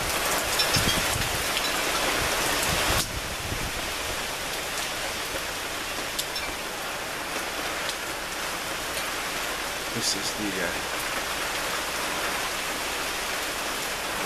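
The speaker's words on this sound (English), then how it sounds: "Now here comes the rain big time now." Heavy rain pours down in a dense, steady hiss of drops striking surfaces, with a brief voice speaking near the start.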